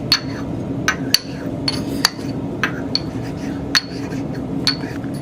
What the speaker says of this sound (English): And then I'm going to grind it up.